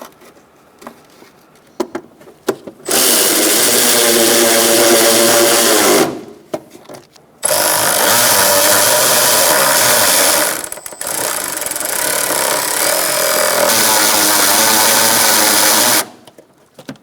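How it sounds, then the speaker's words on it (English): Power tool running bolts into a brake master cylinder on a 2004-2009 Mazda 3, sounding as three long, loud, steady whirring bursts separated by short quiet gaps. "Now we're going to put our bolts in."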